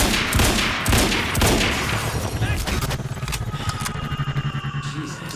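Gunfire in the video game Quantum Break: a dense, loud fusillade of rapid shots and booms, with a sustained burst of machine-gun-like fire toward the end, mixed with game noise.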